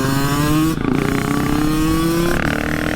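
A KTM 500 EXC-F dirt bike engine revs hard and steady, its buzzing tone holding high and rising slightly near the end, close and loud with no voices.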